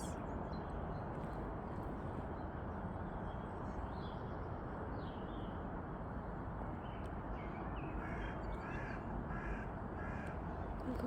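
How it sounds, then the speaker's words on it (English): Birds call in an open meadow, crows cawing now and then over a constant rumbling wash of wind, distant and fairly faint. "Can you hear the birds?"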